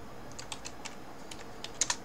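Quick, light clicks on a computer keyboard as a prompt is typed into ChatGPT, an uneven burst of close keystrokes with a couple of sharper taps near the end and no voice.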